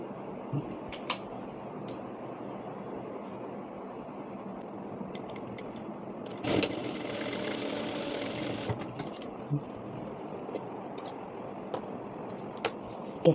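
A sewing machine runs a straight stitching seam along folded fabric for a scrunchie hair tie, a steady whirring burst of about two seconds set against quiet room noise and faint clicks.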